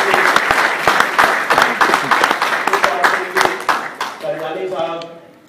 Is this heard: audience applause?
yes